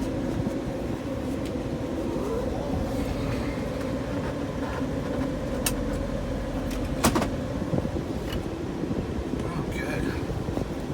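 A 2005 Nissan Armada SE with a V8 engine driving: a steady, low cabin drone with road and wind noise and a few light knocks, heard from inside the vehicle.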